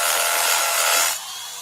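A Bosch Bulldog rotary hammer drills into concrete, a loud, harsh grinding rush lasting about a second before cutting off abruptly into a quieter tail.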